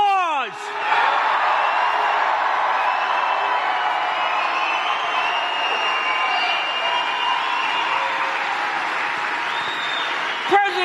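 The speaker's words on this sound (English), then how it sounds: "Let's give him a round of applause." A large outdoor political rally crowd in Juneau, Wisconsin, for President Trump breaks into sustained roaring applause and cheering, a broad wash of clapping and shouts held loud and steady throughout, with a brief sharp thump near the start and end.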